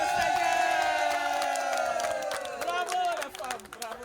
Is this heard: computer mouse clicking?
no